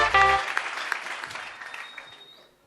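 A church congregation claps together, the applause starting strong right after a brief spoken word and then thinning and fading away over a couple of seconds.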